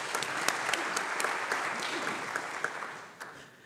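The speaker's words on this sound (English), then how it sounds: "Let us welcome him with a clap." An audience claps to welcome a speaker, an official of the Holy See's Dicastery for Promoting Integral Human Development, at a formal lecture. The applause is full and lively with sharp individual claps, then thins out and fades toward the end.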